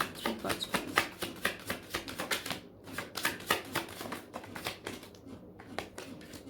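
Tarot cards are shuffled in a rapid series of crisp, papery riffles and slaps, close and fairly loud, with a couple of brief pauses between bursts.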